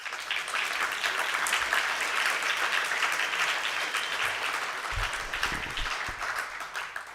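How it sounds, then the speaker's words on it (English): Audience applause at a LibertyCon Europe 2022 conference, thanking the event's sponsors: steady, dense clapping from a crowd that fills the whole stretch with no voices over it. "A round of applause for them."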